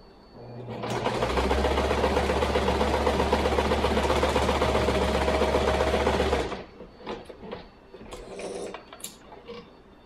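A sewing machine stitches a fabric pad onto the body of a stuffed hooved-animal toy, running loud and steady for about five seconds before stopping, followed by quieter handling clicks and rustles.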